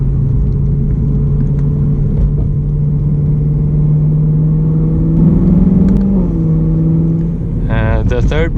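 BMW E92 M3 with a modified exhaust, its engine droning at a loud, steady idle before rising in pitch and then revving sharply near the end, heard up close.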